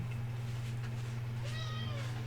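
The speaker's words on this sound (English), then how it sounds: "All you hear is cat." A cat meows a few times over a steady low electrical hum, the calls faint to moderate and drawn out, with no talk.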